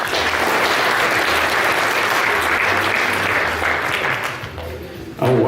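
A convention audience at a fursuit charades event claps loudly and steadily, a dense continuous round of applause that tapers off near the end.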